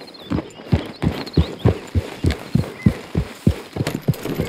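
Horse hooves in Red Dead Redemption 2 clip-clop at an even walking pace, about a dozen close, crisp strikes on firm ground. A faint, brief whinny-like tone is in the background and no one speaks.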